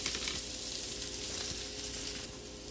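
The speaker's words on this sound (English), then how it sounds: "We want to saute this, get it nice and golden brown." Onions sauteing in a pan for a copycat Steak 'n Shake Frisco melt, giving a steady close sizzle and frying hiss with occasional faint stirring taps, no talking.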